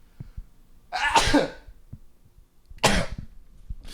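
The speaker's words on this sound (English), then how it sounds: "my sneeze sounds like a cough and my cough sounds like a sneeze" Two separate sneezes with a harsh, cough-like bark, each a sudden loud burst about two seconds apart, with quiet between them and no talking.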